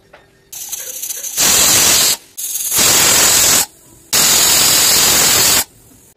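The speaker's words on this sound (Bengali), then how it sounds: "এবার প্রেসার কুকারের ঢাকনা আটকে 3টে সিটি দিয়ে দেব।" A pressure cooker cooking coconut in a little water whistles in loud, hissing bursts, three long blasts of steam close up, separated by short lower hisses.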